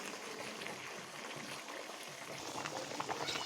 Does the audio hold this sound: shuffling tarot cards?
no